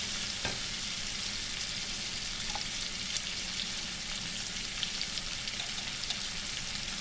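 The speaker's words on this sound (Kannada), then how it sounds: "ಆನಿಯನ್ ಸ್ವಲ್ಪ ಫ್ರೈ ಆದರೆ ಸಾಕು." Onions frying in a pan for masala dosa filling, a constant close sizzle with occasional soft clicks of stirring, no voices.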